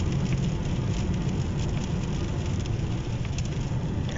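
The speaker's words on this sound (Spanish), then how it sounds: "para acá está más intensa la lluvia" Dense, steady rain hissing over a low rumble like a moving vehicle, continuous throughout with no talking.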